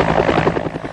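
A firefighting helicopter flies over a blazing factory, its rotor a loud, close, rapid pulsing chop filling the whole second with a dense engine roar.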